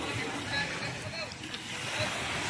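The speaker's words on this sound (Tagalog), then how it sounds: "Medyo malakas yung alon." Fairly strong waves slosh steadily around tied boats during a boat blessing and fluvial parade, a constant broad wash of water and wind with faint voices in the background.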